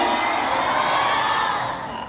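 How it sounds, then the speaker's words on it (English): A hall audience of students cheers loudly at a motivational talk, a dense, sustained roar of shouts and whoops that stays steady, then eases slightly toward the end. "Give a big cheer."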